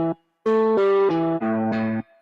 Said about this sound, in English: A bit of spring reverb.